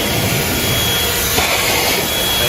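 A ThisWorx 12V handheld car vacuum runs with its extension attachment fitted, giving a loud, constant whirring drone with no breaks.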